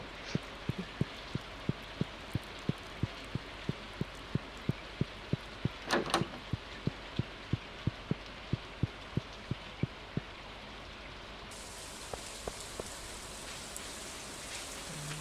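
Steady rain falling in the video game Stardew Valley, with a soft continuous patter under a regular ticking beat of game sounds and one brief louder burst midway.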